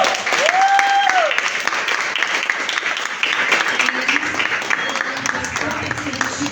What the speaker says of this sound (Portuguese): eu gostaria de um aplauso aqui aos convidados do estado.